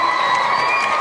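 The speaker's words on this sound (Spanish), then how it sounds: "Voy a pedirle un fuerte aplauso a la gente para Iván" Live audience at a MetroMall masked-singer show in Panama cheers and shouts loudly for a performer, a dense continuous roar of crowd voices with whoops.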